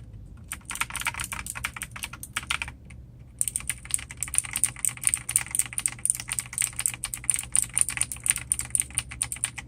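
Close-up typing on Kailh clicky mechanical keyboard switches, crisp bright clicks in quick bursts, with a brief pause before the keystrokes resume even louder and faster, and no voices.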